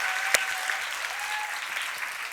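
A conference audience applauds steadily at the closing of the Stockholm Internet Forum, giving a dense, even wash of clapping from a large room with one sharp close clap near the start.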